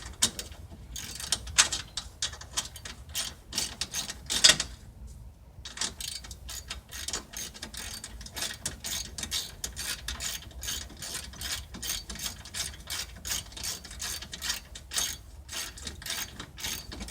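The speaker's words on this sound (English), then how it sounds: "want to just see me unbolt some bolts" Ratchet clicking away while bolts come off the condenser of a Mercedes C-class (C230/C240/C320), in quick, steady runs of metallic ticks, close and fairly quiet, with one louder clank partway through and a short pause before the clicking resumes.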